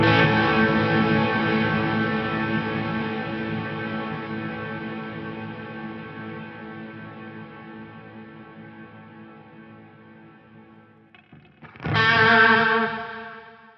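A sustained, harmonically rich tone rings through an Eventide Eclipse running delay 8plex and chorus delay, slowly decaying with layered repeats before a fresh loud note strikes near the end and blooms again.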